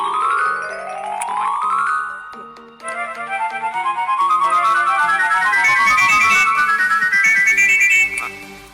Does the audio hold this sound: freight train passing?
no